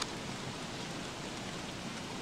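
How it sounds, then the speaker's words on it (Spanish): Rain falls in the video game Don't Starve: Reign of Giants as an even, continuous hiss of rainfall at constant loudness, with no other sounds. "¿Cómo podría defenderme yo de la lluvia?"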